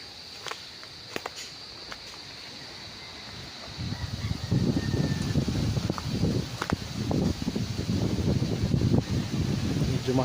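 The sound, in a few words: wind blowing at a resort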